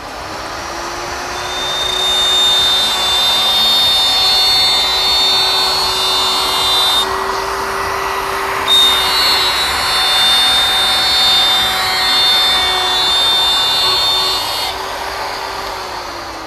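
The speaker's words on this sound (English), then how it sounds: "then start the router and plunge and make our last cut" A plunge router cuts a circle in MDF, whining steadily and loud at close range with a sustained high-pitched tone throughout, with slight shifts in pitch as the bit bites through the board.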